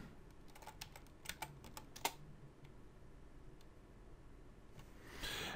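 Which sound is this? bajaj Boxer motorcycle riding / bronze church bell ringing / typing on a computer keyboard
typing on a computer keyboard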